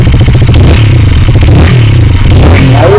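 A 2025 KTM Duke 160 motorcycle with a BS6 engine and an under-seat silencer, starting up and then revving, heard loud and close with a rough, rattling exhaust note that fills the short recording.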